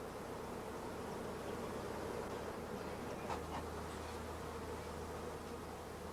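Honey bees on brood and food frames in a three-frame nucleus hive, a continuous close buzzing hum with a brief rustle midway.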